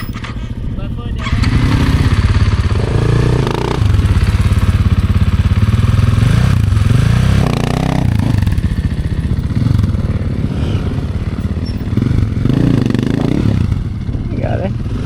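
A dirt bike engine idles and then revs steadily under light throttle as the rider eases out the clutch, a close, loud, rumbling drone that rises and falls, with a voice talking over it.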